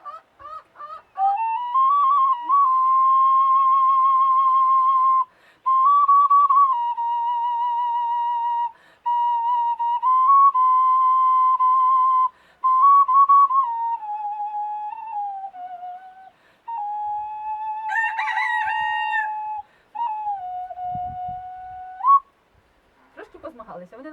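Ukrainian clay folk whistle toys blown in long, loud, sustained piping tones, rooster-like, repeated in several separate blasts with short breaks between, ending in a brief warbling trill.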